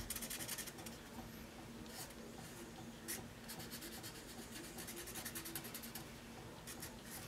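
A black marker rubs back and forth over a wooden popsicle stick, colouring in a shape with steady, quick scratchy strokes, close and quiet, with a few sharper squeaks and no voices.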